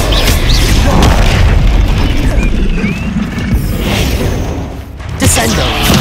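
A Bombarda explosion spell in Hogwarts Legacy on Xbox Series S: loud, sustained booming blasts with rumbling mechanical debris, a brief dip, then another burst, with a voice shouting under the din.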